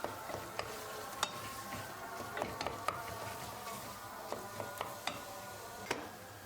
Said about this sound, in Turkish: Unun kokusu çıkıp salça dağılana kadar güzelce kavuruyorum